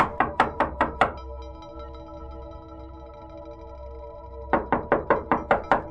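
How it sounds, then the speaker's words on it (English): Sharp knocking on a front door in a horror setting, two quick bursts of six or so raps each separated by a low ringing hum, close and loud. "one of my friends mentioned hearing a knock at the front door."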